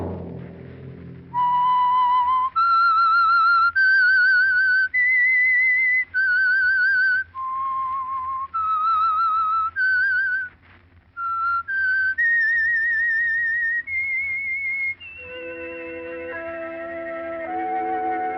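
A radio mystery show's theme whistle for The Whistler: a clear solo melody of sustained whistled notes, loud and close, stepping up and down in pitch before a brief orchestral chord takes over at the end.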